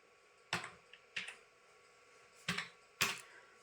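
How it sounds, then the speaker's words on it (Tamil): A captcha is typed on a computer keyboard as a few sparse, crisp keystrokes, four distinct taps spaced unevenly in a quiet room. "அந்த கேப்ச்சாவையும் கரெக்டாக டைப் பண்ணிக்கிறேன்."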